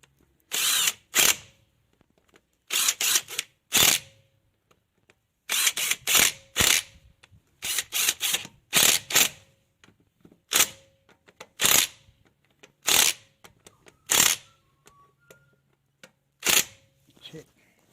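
Power driver on its lowest setting nipping up the wheel hub screws on a Ford Courier PD, tightened diagonally; short whirring bursts come close and loud, about a dozen, separated by pauses, with some ratcheting and handling noise between them.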